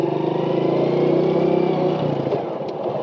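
A motorcycle engine hums steadily up close as a beginner rider shifts into second gear, the tone changing partway through as the gear goes in and the revs settle.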